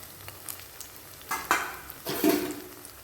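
Cauliflower fritters frying in hot oil, a soft steady sizzle broken by a few louder bursts and scrapes as pieces are lifted out with a slotted spoon, close by.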